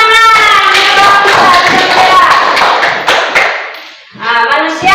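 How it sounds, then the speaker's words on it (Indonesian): Students in a classroom clap their hands in a loud, dense burst that thins out toward the end, briefly fading before a voice cuts in. "Iya, tepuk tangan"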